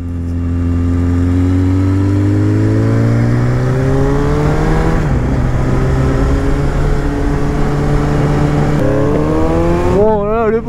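Car engine revving hard, a loud close drone climbing in pitch with a gear-shift break partway through and a final sharp rev near the end.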